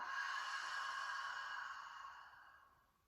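One long, soft exhale during a yoga breathing exercise, a breathy airy rush that fades gradually over about three seconds in a quiet room.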